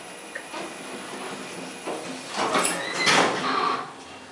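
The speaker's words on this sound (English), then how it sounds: "The door's going to close." A Dover hydraulic elevator door slides shut, a steady hissing glide that builds to a louder rumbling sweep near the end before easing off, heard close up with no one talking.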